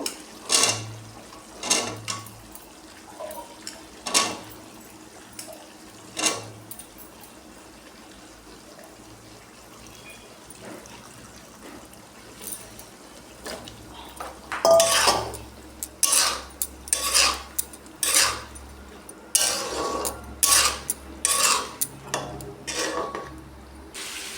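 Chickpeas for chole bhature are stirred and sautéed in a pan, heard as irregular metallic clinks and scrapes of a spoon against cookware, some loud and close, with brief watery sounds between quieter gaps.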